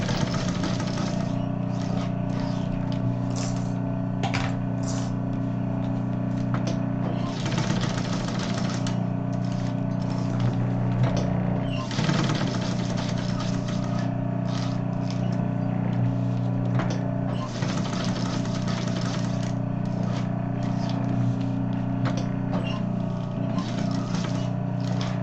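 A sewing machine stitches a glued-on label onto the zipper panel of a double vanity case, its motor whirring in a steady, close drone that runs for most of the stretch with only brief pauses.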